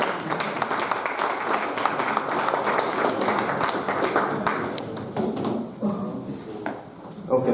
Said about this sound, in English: Please give a big round of applause to SJS Tiwari Sir.